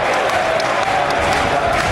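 A football crowd at Craven Cottage for a Premier League match between Fulham and Burnley keeps up a steady, dense roar throughout, loud and continuous with no clear breaks.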